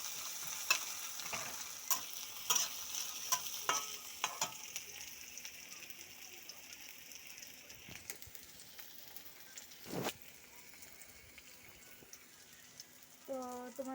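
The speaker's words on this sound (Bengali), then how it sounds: "এটা পেঁয়াজ রসুন মরিচ দিয়ে এমনি একটু ভাজা করে চাটনি বানাই যাচ্ছে।" Onion, garlic and chili fry in a pan for chutney in a home kitchen, with a low steady sizzle and repeated clicks and scrapes of stirring all the way through. A brief louder scrape comes near the end.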